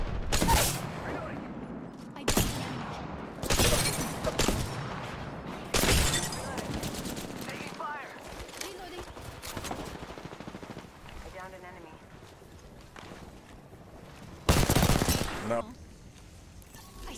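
Loud bursts of automatic gunfire in the battle royale game Apex Legends Season 11, spaced over several seconds with quieter rattles and mechanical clatter between them, while a player talks.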